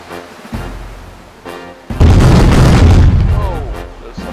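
Ship cannons firing in an East India Company naval video game: deep booming blasts, one near 0.5 s and a heavy sustained barrage from 2 s on, with a voice speaking amid the battle noise.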